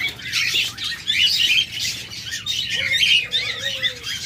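Pet birds squawking and chirping together in a bird shop selling lovebirds, budgerigars and cockatiels, a dense continuous chatter of overlapping calls with no talk.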